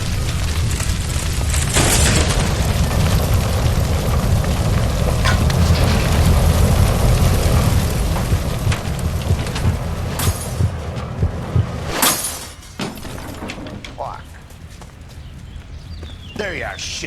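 A loud, rumbling blast from a shot gas line in the video game L.A. Noire, amid clattering debris and fire, followed by sharper bangs and scuffling as the scene quiets.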